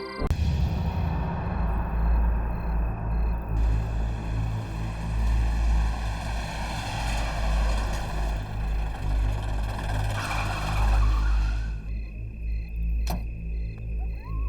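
An overheated car's engine drones loudly and steadily with a rough, throbbing tone, then its higher whine cuts away near the end as it stalls.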